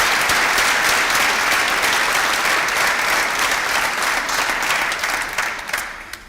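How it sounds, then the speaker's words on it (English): Loud, sustained audience applause at a master's graduation ceremony, a dense crowd clapping evenly before tapering off near the end. "that alone deserves a round of applause for the efforts made"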